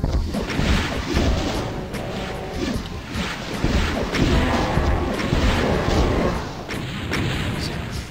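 Rocket explosions in DOOM II boom repeatedly in a loud, dense barrage of heavy thuds and rumbling blasts, with no pause between them.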